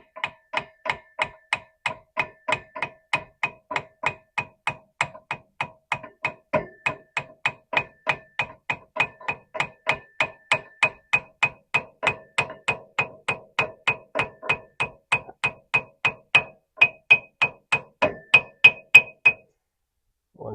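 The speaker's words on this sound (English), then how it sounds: "you can just start tapping it with a hammer" Steady, evenly spaced hammer taps drive a Kawasaki KRX 1000 UTV output shaft over its O-ring, dozens of crisp metallic ticks at about two per second, close and growing slightly louder toward the end.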